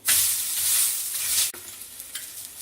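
A loud burst of sizzling as an onion adai dosa fries on a pan, cut off abruptly as it is flipped, followed by a quieter sizzle with light scraping, up close and with no voices.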